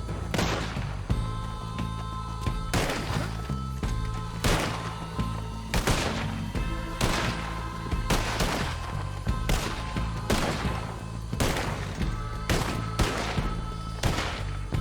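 Rapid gunfire rings out in Red Dead Redemption 2, loud repeated shots at a quick irregular pace over a busy rumbling backdrop for the whole stretch.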